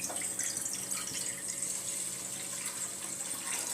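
Water pouring into a kadhai on the stove for boiling eggs, a steady close splashing stream running evenly from start to finish with no talk.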